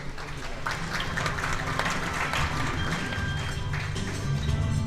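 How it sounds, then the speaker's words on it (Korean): An audience at a blockchain conference talk on cryptocurrency exchange security gives a steady patter of applause to welcome the speaker to the stage. The clapping is dense and continuous throughout, with a voice briefly audible beneath it. "다시 한번 박수로 맞이해 주세요"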